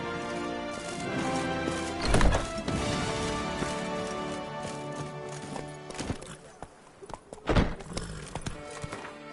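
Horse hooves clip-clop steadily across ground in The Witcher 3, a rhythmic trot with a couple of louder thumping bursts and a brief whinny, fairly close and with no talk over it.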